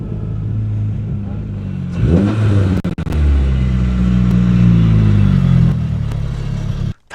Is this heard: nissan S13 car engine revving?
yes